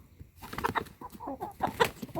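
Roosters cluck and squawk in short, uneven bursts as they chase each other inside a farm shed, close and fairly loud, with no one speaking.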